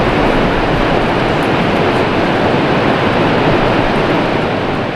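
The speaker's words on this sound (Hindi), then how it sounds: "इनमें से एक है ये सेवन सिस्टर्स फॉल।" Seven Sisters Falls, a waterfall in Cherrapunji, Meghalaya, roars as a loud, steady broadband rush of falling water with no pauses.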